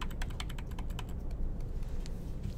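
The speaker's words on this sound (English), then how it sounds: "a quick keyboard command for making brushes bigger and smaller without having to choose that is the square bracket keys" Square bracket keys on a computer keyboard tapped in a quick run of about a dozen light clicks, close over a steady low background rumble, then fading to occasional taps.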